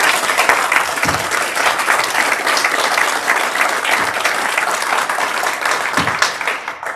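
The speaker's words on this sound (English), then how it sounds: "I want to give a great round of applause for our keynote" Loud, dense applause from a crowd at a sustainable infrastructure breakfast event, greeting a keynote speaker; continuous clapping holds steady for the full seven seconds with a few sharper claps standing out.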